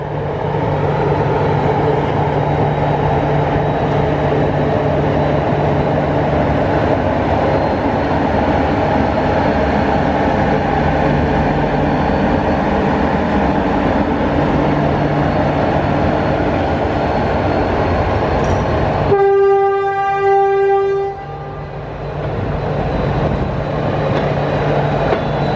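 Passenger train 431 to Bar, Montenegro, stands at Belgrade station with a steady low rumble and hum, then a sharp high whine and squeal rises briefly near the end before fading.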